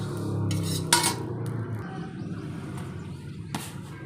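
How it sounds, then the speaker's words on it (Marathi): Mustard seeds dry-roasting in a pan, heard as clattering metal scrapes and clinks of a utensil stirring against the pan, with a few sharp knocks over a low, steady background hum. "या ठिकाणी मोहरी ही भाजून घेतोय"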